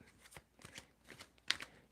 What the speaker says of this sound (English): Tell me when you want to stop shuffling.